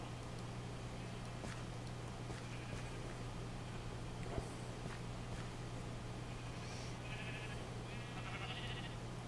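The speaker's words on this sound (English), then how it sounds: "Can we feed a couple of sheep?" Sheep bleat in Minecraft over a steady low hum, with a few faint bleats scattered across the stretch and no talk.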